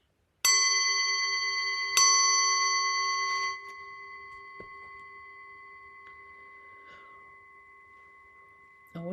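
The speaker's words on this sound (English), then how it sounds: "I'll just do the gong." A meditation gong is struck twice in quick succession. Each stroke rings out with a bright metallic tone, and the second fades slowly into a long, quiet shimmer. A faint tap is heard at the very end.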